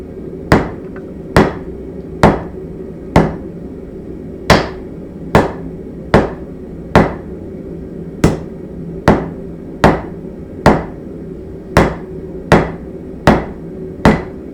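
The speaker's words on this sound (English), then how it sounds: "give it a couple whacks with a hammer and see what's going to happen." Sharp, ringing hammer blows strike hot Damascus steel one after another in a steady rhythm, about sixteen strikes, loud and close over a low background hum.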